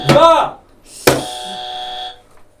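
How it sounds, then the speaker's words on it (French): A game show buzzer tested on a French TV set sounds once, a sustained electronic tone lasting about a second, right after a short burst of speech. "Et vous buzzez sur le buzzer."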